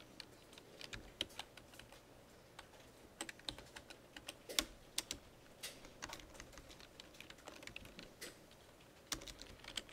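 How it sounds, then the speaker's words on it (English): Rapid, irregular clicking of keys on a computer keyboard, close and fairly crisp, with uneven bursts and brief pauses and no voices over it. "I have a problem typing today"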